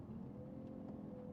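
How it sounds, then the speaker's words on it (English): Car engine driving along a wet countryside road, a steady low rumble and road hiss held continuously and fairly close throughout, with no talking. "Paul, driving through the countryside, back to your mansion, to work"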